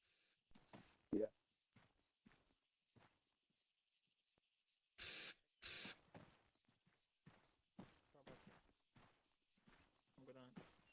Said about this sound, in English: Spray paint blue.